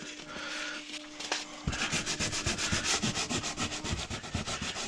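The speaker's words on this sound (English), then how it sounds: "Word of warning, you'll lose your piece of sandpaper when doing this. It just gets totally black and covered in charcoal." Sandpaper rubbing over charred, charcoal-blackened wood in rapid rhythmic back-and-forth strokes, loud and close, starting after a short quieter stretch.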